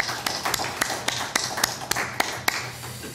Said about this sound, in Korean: 우리가 격려의 박수, 또 하나님께 영광의 박수를 올려드리겠습니다